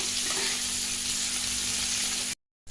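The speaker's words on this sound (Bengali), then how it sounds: "এটা দিয়ে ভালো করে একটু নেড়ে দেবো।" Chopped tomato and chilli sizzle steadily in a pan of frying vegetables for an oats khichdi, a continuous close hiss with a faint hum, ending abruptly in silence.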